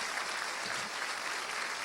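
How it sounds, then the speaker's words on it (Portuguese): A church congregation claps for a guest speaker, a steady, even wash of applause from a large crowd lasting a couple of seconds. "E eu gostaria de recebê-la com um forte aplauso a Jesus."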